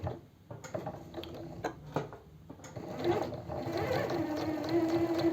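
Sewing machine running a fine topstitch along a dress seam, starting with a few short separate bursts of stitching before settling into a continuous steady whir.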